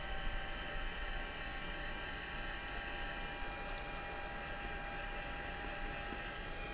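A heat tool blows hot air to dry ink on a handmade thank-you card, giving a steady, even whirring drone that holds from start to finish at moderate distance.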